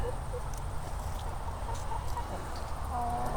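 Soft, scattered clucking of chickens over a constant low outdoor rumble, the birds fairly distant and quiet.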